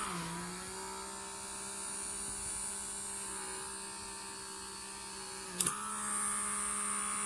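A Comedo pore vacuum runs at high suction, giving a steady electric motor hum with a constant whine, briefly interrupted by a sharp click or bump near the end before the drone resumes.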